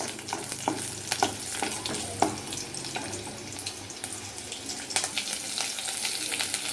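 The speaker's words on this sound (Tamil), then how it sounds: "ஒரு 10 பல் பூண்டு போட்டு அது கொஞ்சம் பொன்னீர் ஆகிற வரைக்கும் நல்லா கிண்டுங்க" About ten garlic cloves fry in a pan as a spoon stirs them. A soft, steady sizzle carries intermittent scraping and clinking strokes, fairly close and quiet.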